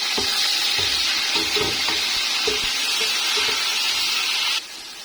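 A steady sizzle of two large tomatoes frying in a pan with browned ginger for chicken pulao, with occasional soft stirring knocks and clinks beneath the continuous hiss.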